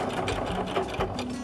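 Sewing machine running steadily while stitching together quilt patchwork pieces, a close, continuous motor whir with rapid needle rhythm throughout.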